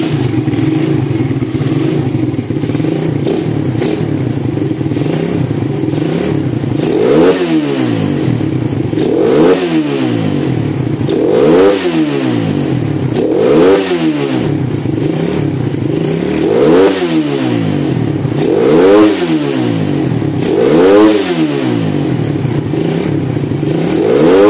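A hot motorcycle engine with a broken starter idles steadily, then is revved repeatedly in a regular series of sharp bursts, each rising and falling, loud and close.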